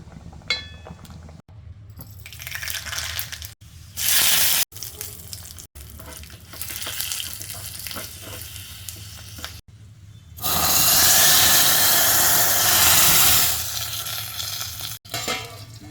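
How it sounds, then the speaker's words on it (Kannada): Spices sizzle and crackle in hot oil, with a loud burst of hissing midway, interrupted by brief handling clatter and pauses. "ಇದಕ್ಕೊಂದು ಒಗ್ಗರಣೆ ಹಾಕ್ಕೊಳ್ಳೋಣ"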